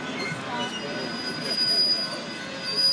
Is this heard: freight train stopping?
yes